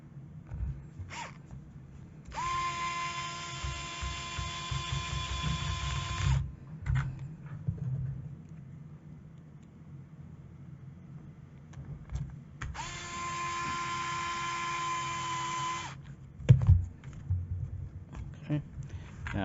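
An electric driver runs 20mm screws into a bumper on an Arrma RC car, giving two whining bursts of about four seconds each, separated by quiet handling noises and faint background sound.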